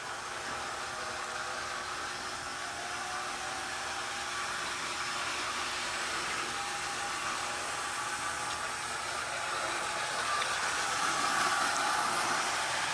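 Continuous whirring hum of an Athearn Mega Goldmine model locomotive running along its track at about 7 volts, a steady close drone that builds slightly toward the end, with no voices.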